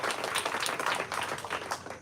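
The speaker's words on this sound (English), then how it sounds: "Let's give him a cheer." Audience applause and cheering for a state park ranger being introduced at a talk, a steady dense wash of clapping throughout, fairly loud and close, with no speech over it.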